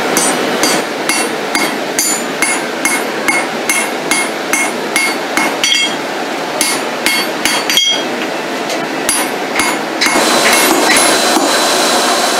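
Hammer blows flatten a Damascus steel billet on the anvil, sharp metallic strikes landing in a quick, fairly regular rhythm with a few brief pauses, close and clear.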